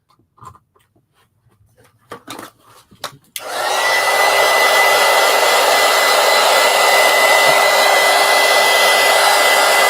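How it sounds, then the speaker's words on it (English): A heat gun drying water-based marker coloring starts after a few soft scratches and taps, then blows as a loud, steady, continuous whoosh and hum close by for the rest of the time. "let me hit it with the heat gun"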